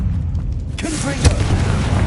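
A Confringo spell blast in the video game Hogwarts Legacy bursts out as a single loud boom partway through, over steady low rumble and game noise, with someone shouting spell names just before it.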